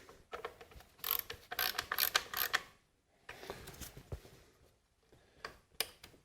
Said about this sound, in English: I'll use a ratchet to snug them down, get the coil locked down into place.